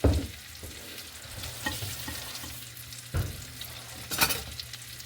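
Ground venison browning in a pan for a dog stew, a steady frying sizzle broken by several scraping stirs and bumps of a utensil against the pan, with no voices.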